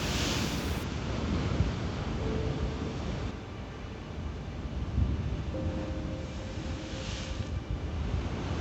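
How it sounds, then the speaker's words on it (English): Large ocean waves crash over the cliffs at Kaloli Point on Hawaii's Big Island, a steady broadband roar of surf mixed with wind buffeting the microphone, with no voices. "These are the biggest waves coming up over the cliffs."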